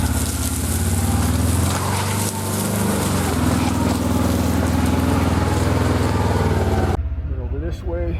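Kawasaki Mule Pro FX utility vehicle engine driving over rough ground, a loud continuous drone with broad noise that cuts off abruptly near the end, with talking mixed in.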